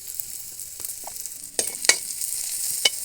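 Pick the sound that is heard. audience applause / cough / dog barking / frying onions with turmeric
frying onions with turmeric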